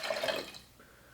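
Lemon juice, about an ounce and a half, is poured for a Bramble blackberry cocktail in a brief splashing trickle lasting half a second that fades quickly.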